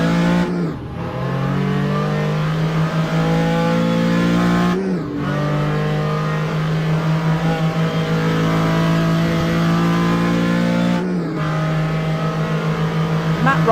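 A Porsche 935 K3 race car engine in a sim racing game at Road Atlanta, a loud, steady in-cockpit drone that drops sharply at three gear changes and immediately climbs back to full pitch.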